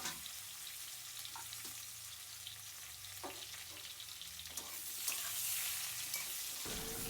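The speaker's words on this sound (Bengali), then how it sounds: "এবার আমরা পটলটাকে ভেজে নিচ্ছি।" Pointed gourd frying in hot oil in a pan, a steady close sizzle with occasional light scrapes and clicks of stirring, no voices.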